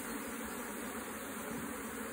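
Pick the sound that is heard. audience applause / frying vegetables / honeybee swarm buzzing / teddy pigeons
honeybee swarm buzzing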